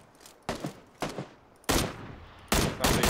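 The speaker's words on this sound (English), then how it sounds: "Who's shooting? That's them, huh?" Gunfire in a video game: several separate bursts of rapid shots, spaced irregularly, growing louder and closer toward the end, with quiet pauses between volleys.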